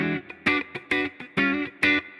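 An electric guitar with single-coil pickups runs through a Strymon Sunset dual overdrive into a clean amp set at the edge of breakup. A handful of crisp, slightly gritty chord stabs ring out in a loose rhythm, each cut short between hits.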